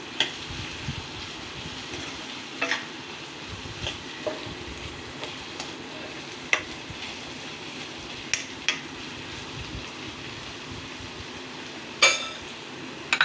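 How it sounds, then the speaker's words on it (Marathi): Onions and yellow bell pepper being stirred in a pan for homemade pizza topping, with soft steady sizzling and scattered scrapes and knocks of the spoon against the pan, close and moderately quiet, no talking. "हे जी पिवळी शिमला मिरची आहे आपली ते आपण याच्यामध्ये टाकणार आहेत थोडस हलवून घेऊ"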